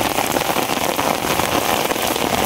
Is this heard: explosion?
no